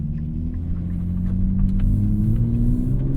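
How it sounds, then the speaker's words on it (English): A 2024 Nissan Z Nismo's exhaust idles with a steady, throaty low rumble and faint crackling burbles, close and loud, with no talk. "Got some burbles as well."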